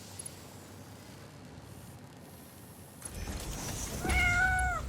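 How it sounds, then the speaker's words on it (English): A house cat meows loudly and close by near the end, a drawn-out meow rising in pitch after a few seconds of quiet room hum. "just a cat"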